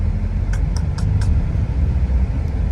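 Heavy road traffic entering Bangalore makes a dense, steady rumble of cars and buses, with a few brief sharp high bursts early on and no one speaking.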